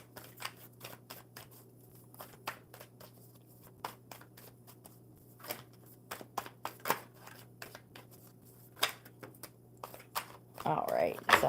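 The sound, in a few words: shuffling playing cards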